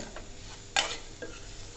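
Mawa (khoa) stirred in a pan as ghee releases, a soft sizzling bed with a couple of brief scraping stirs, close and fairly quiet.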